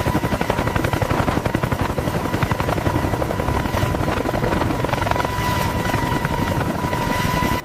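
A CH-53K heavy-lift helicopter with its rotors at full speed, a loud, close, continuous rapid blade chop over a droning turbine whine and a steady high tone, without pause.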